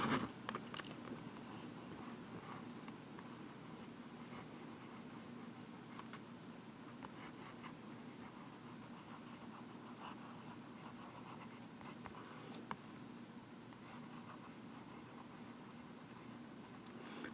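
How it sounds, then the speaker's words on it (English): A Marlen Seventies Special Edition fountain pen writes on Rhodia paper, giving faint, soft scratching strokes and small taps in a quiet room, steady and close throughout with no talk. "we'll do a writing sample and a quote"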